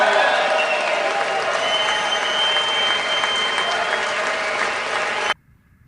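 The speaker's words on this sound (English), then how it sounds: "Now, this generated long, sustained applause, but only from the Republicans." Long, sustained applause in the Senate chamber during a State of the Union address, dense steady clapping and cheering from a large crowd that cuts off abruptly near the end.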